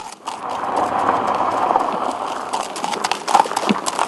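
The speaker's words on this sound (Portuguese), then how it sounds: "Mariano faz questão de aguardar o visitante a cavalo" Horse hooves clip-clop steadily as a rider approaches on horseback at a ranch welcome, the footfalls fairly close and continuous over about four seconds with faint background sound.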